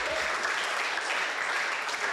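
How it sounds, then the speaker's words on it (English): Audience applause at a team update gathering, a dense, steady wash of many hands clapping together, fairly loud and continuous throughout. "Round of applause for Trey."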